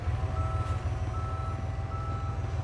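Tow truck reversing beeps in the Police Simulator: Patrol Officer video game, a steady run of regular electronic beeps over a low continuous engine rumble, fairly close and constant throughout.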